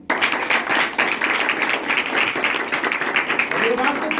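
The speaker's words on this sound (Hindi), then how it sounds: "ताली मारो।" Church congregation claps together during a Sunday service sermon, a steady, fairly loud wash of many hands clapping throughout, with voices mixed in underneath.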